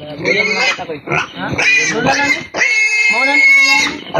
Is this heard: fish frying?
no